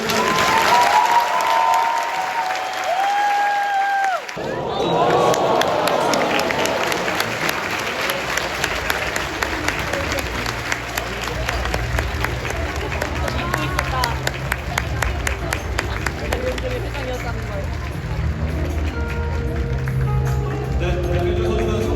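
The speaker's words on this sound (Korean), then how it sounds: "대한민국 야구의 살아있는 전설 오승환 선수의 입장을 큰 박수로 맞이해주시길 바랍니다." A stadium crowd applauds and cheers as a retiring baseball pitcher enters his number-retirement ceremony. After a brief announcer's voice, a dense, sustained roar with rhythmic clapping builds and continues loudly throughout.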